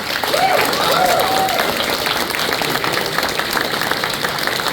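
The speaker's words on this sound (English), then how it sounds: "Standing ovation." A large audience at a Halo game expo panel gives a standing ovation, clapping loudly and continuously, with scattered cheers and voices mixed into the sustained applause.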